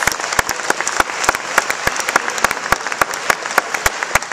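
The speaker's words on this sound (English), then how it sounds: "let's give her a round of applause." An audience gives a woman who came forward a round of applause, a full crowd clapping steadily, with sharp, loud individual claps from someone nearby standing out rhythmically above the wash.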